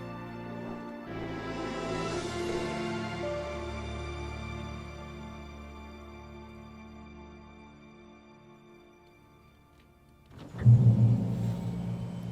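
A truck engine in the video game Alan Wake rumbles steadily with a low drone that gradually fades over about ten seconds, then a louder burst of rumbling and revving kicks in near the end.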